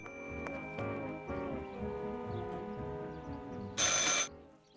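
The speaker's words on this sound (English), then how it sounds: "I should pick up the phone but remain silent." A telephone rings in the video game Martha is Dead with a bright, repeating electronic bell tone. A louder, harsher burst comes near the end over a quiet background.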